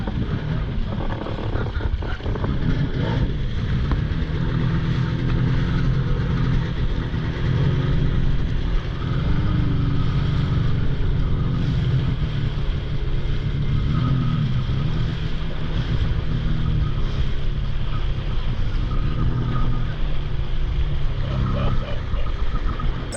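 A steady, loud wake boat engine drone with broadband water rush runs throughout, the boat motoring along, with faint voices now and then.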